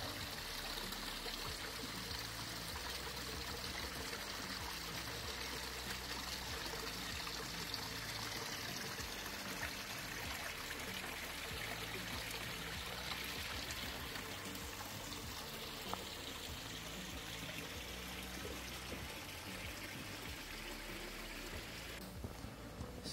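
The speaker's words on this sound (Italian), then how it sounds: "Si presume che questi siano tutti scanalatori d'acqua." Water trickles steadily through old stone channels of the Colognole aqueduct near Livorno, a continuous close stream of gurgling and splashing with no voices.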